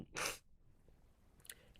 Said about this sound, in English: that sneeze does not take away this serious moment